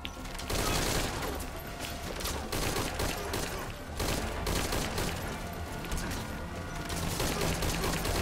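Continuous gunfire in Metal Gear Solid V, rapid repeated shots forming a loud, dense fusillade with mechanical clatter that runs almost without break through the whole stretch.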